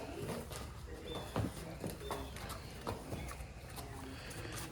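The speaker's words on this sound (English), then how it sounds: "This horse is crazy." A horse outdoors moves about with irregular hoof thuds and snorts, fairly faint and mixed with birdsong and background ambience.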